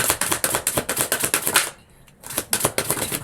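A deck of tarot cards being shuffled, a rapid run of crisp riffling clicks that stops for a brief pause and then resumes, close and fairly loud, with no talking.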